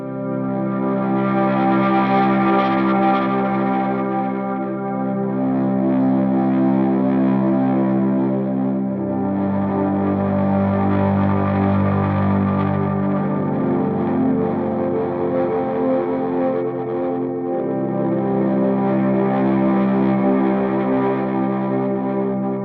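Electric guitar on the neck pickup played as slow volume swells through a Line 6 HX Stomp running a dual-amp setup, sustained chords fading in and blooming with distortion and ambient echo, loud and continuous with no talking.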